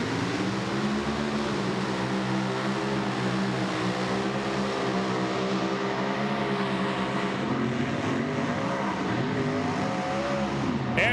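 A 3,000-horsepower mini rod pulling tractor's engine roars loud and steady at a pulling event, with the throttle worked to hold the revs, the pitch rising and shifting near the end.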